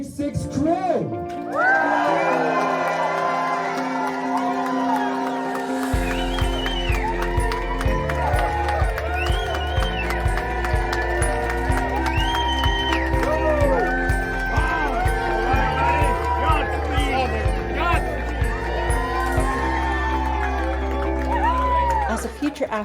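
A crowd screams and cheers as the Virgin Galactic Unity 6 crew walks down a hallway, a loud continuous roar of shouting voices over pounding music with a heavy beat, lasting throughout.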